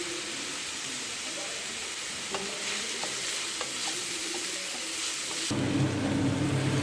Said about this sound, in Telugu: ఆనియన్స్ గోల్డెన్ బ్రౌన్ వచ్చే వరకు ఫ్రై చేసుకోవాలి.